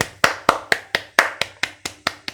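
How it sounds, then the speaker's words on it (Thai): A single person claps their hands about ten times in a steady, even rhythm, each clap sharp and close, with no other sound around them. "ผมปรบมือให้เป็นกำลังใจให้"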